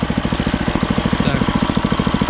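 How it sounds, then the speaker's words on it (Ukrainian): A Neva walk-behind tractor with a new engine runs in first gear close by, a rapid, even thudding chug that continues steadily throughout. "Включаємо першу передачу. Першу передачу трогається. Мотоблок поїхав."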